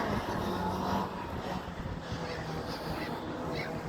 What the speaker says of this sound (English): ripping and revving the motorbike